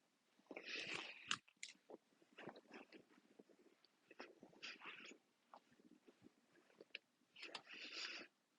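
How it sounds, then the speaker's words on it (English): Close, quiet chewing of a bagel and banana, with soft wet bites and crunchy mouth sounds in irregular bursts, no talking. "I am sorry if you hear my chewing."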